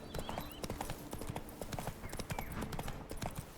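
Roach the horse gallops in The Witcher 3, hooves clip-clopping in a fast, steady rhythm that sounds close and fairly loud, with faint talk now and then.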